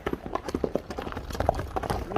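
A racing horse used for kok-boru gallops across ice, its hooves clattering close by in a fast, uneven rhythm while voices talk over it.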